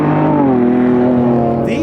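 Loud, close revving of a Lamborghini Revuelto's hybrid V12, a sustained sweeping engine tone that rises and settles over a couple of seconds.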